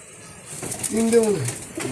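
Racing pigeons in a flying loft giving a short, rounded coo that rises and falls, close by, with a person talking over it.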